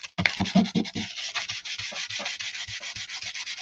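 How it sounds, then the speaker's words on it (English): Close, steady rasping of sandpaper rubbed back and forth in quick rhythmic strokes over the back of a playing card, with no talking. "I always use sanding paper, and I like to sort of rough the back up."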